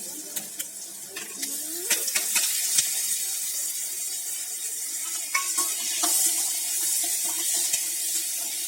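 Tomatoes sautéing with onions and curry leaves in a pan for a drumstick fry, a steady close sizzle with scattered stirring scrapes and clicks of a spoon throughout.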